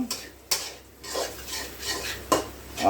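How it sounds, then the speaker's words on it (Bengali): Food is stirred in a pan after turmeric is added, with a short run of scraping sweeps and a few sharp utensil clacks against the pan over a faint sizzle. "হলুদ দিলাম ঠিক আছে তারপরে আমি আবার নাড়াচাড়া করছি"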